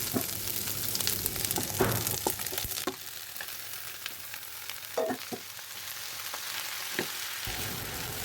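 Stinging catfish roe stirred in a pan with boiled drumstick leaves, onion and garlic: steady oily sizzle with repeated scraping stirs and small clatters, close and continuous, no voices.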